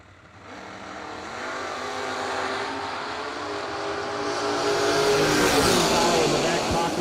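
A 1967 Coronet and a 1991 Camaro drag racing, engine roar swelling steadily as the cars launch and pull away, with an announcer talking over it.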